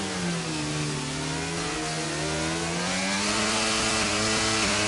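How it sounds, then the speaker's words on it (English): A race car engine revs hard in a racing video game, a loud continuous engine roar with rising and falling pitch sweeps, alone without talk. "Properly revving it out."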